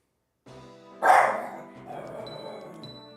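A single sharp dog bark rings out at moderate volume, followed by a fading echo and low background noise.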